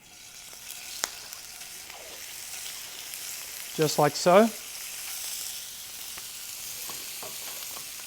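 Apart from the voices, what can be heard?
chicken sizzling while frying in a pan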